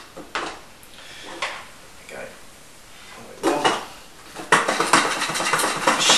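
About a third of a cup of popcorn shaken with spice in a container, giving brief rattling bursts that build into a loud, continuous shake near the end, with a voice speaking between them.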